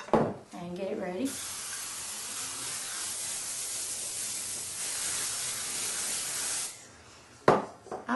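Cooking spray hissing steadily onto a baking pan for several seconds as it is greased for Thanksgiving dressing, close and continuous, with a brief louder burst near the end.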